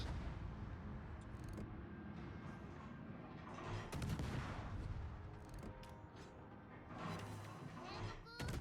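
Naval gunfire booms and crackling shell hits in a warship battle video game, with repeated bursts and broadband blasts swelling in loudness over a steady rumbling engine bed, with a voice talking underneath.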